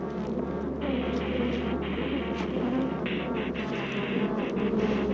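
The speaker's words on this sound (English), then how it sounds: "Even as Dr. Gary left the hive area, the bees persisted in their attack." Swarm of killer bees buzzing around a hive area during an attack, a dense continuous drone with individual bees whining past, fairly loud over a low steady hum.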